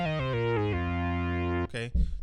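Glide Surfer synth lead preset from Logic's ES1 synthesizer, a bright buzzy lead with gliding pitch steps held for over a second, then a short rising chirp and noisy burst at the end.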